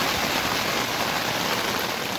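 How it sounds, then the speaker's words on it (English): Rain falls at a high wilderness campsite around 11,600 feet in Lost Creek Wilderness, a loud, steady, close hiss of drops with no let-up and no voices. "It's raining."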